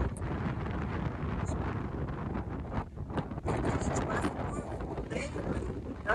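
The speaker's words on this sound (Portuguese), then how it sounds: "Não sei se vocês estão conseguindo me ouvir porque tem muito vento." Strong wind buffets the microphone at Praia das Bruxas, a rocky beach in Florianópolis, making a constant loud, rumbling roar with a voice partly buried underneath.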